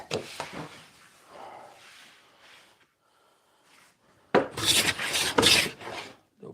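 Hand plane shaving along the grain of a small wooden table top, a few loud rasping strokes near the end after a quieter stretch of faint scraping and handling.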